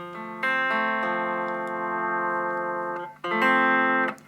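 Epiphone Les Paul Goldtop on its bridge pickup through a Vox AC4TV amp, sustained clean electric guitar notes ringing out, a few changing tones with a short gap before a final note.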